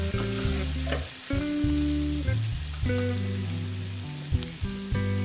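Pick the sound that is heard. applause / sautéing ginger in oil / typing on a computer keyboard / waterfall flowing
sautéing ginger in oil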